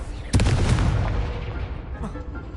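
Confringo spell cast in the video game Hogwarts Legacy, a sudden loud blast that bursts out and then rumbles and fades over a couple of seconds, with a small pop near the end.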